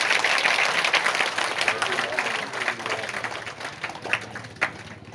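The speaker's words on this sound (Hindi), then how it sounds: "एक बार करबद्ध तालियां हो जाए आप सबके लिए।" A crowd claps together at an outdoor Bhagavat Katha religious gathering, the applause loud at first and then thinning into scattered claps while talk carries on beneath it.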